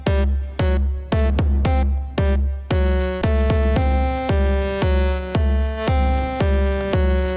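A bright synthesizer with treble boosted, a Gamechanger Audio Plasma Voice, sounding a repeated plucked note pattern with a crisp, treble-heavy edge, steady rhythm, alone with no talking.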